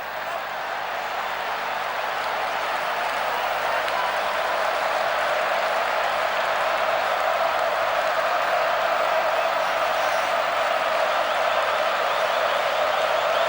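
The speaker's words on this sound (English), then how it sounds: "The crowd pick it up." A football stadium crowd at an Argentina versus Qatar Copa América match cheers and applauds in a steady, loud, continuous roar that holds at an even level throughout.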